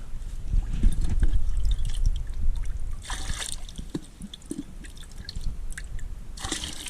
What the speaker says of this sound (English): So then we come to the bucket, we just give it a bit of a flush out.